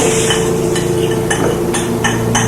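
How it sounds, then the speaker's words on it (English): A wooden spoon stirs strawberry custard in a pot, giving steady scraping and swishing strokes with faint periodic knocks, close and continuous over a low background hum, with no talking. "And I'm gonna stir this all up. My wooden spoon."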